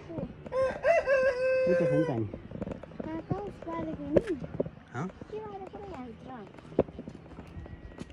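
A rooster crows loudly and close in a hillside village, one long drawn-out call, followed by scattered clucks from chickens and people talking nearby.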